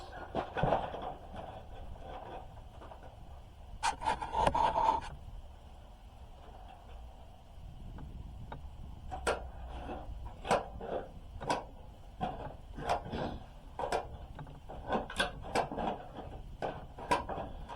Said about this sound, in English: So, you see how easy it is to cut. It's just tin snips.